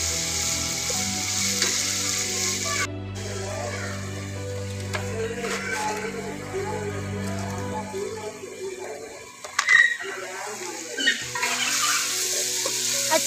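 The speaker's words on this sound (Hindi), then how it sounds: "ये कटा हुआ टमाटर और ग्रीन चिली, ठीक है। इसको हल्का सा फ्राई करेंगे एक दो मिनट" Chopped tomato and green chili frying in a pan, a steady close sizzle that drops away partway through, followed by clinks and stirring scrapes. No one speaks.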